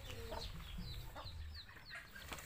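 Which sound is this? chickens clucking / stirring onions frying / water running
chickens clucking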